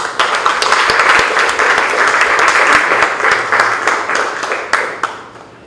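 An indoor audience applauds to welcome architect Brinda Somaya at an evening lecture, a dense burst of clapping that holds steady for several seconds before thinning and fading out.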